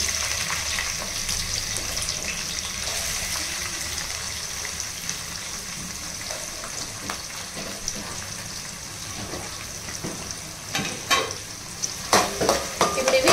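Onion pieces with curry leaves frying in oil in a pan while being stirred, a continuous soft sizzle with scraping stir strokes that grow louder and more frequent toward the end, no talk.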